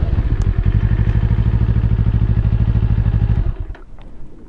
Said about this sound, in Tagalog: this is the 2024 Eliminator 450 by Kawasaki